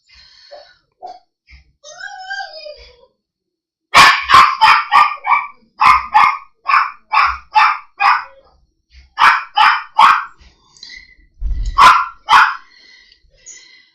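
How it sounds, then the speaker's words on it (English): Small dogs bark excitedly at someone at the door, a few scattered yips at first and then a fast run of loud, sharp barks in quick bursts, close and with no talk. "My dogs are going to be crazy"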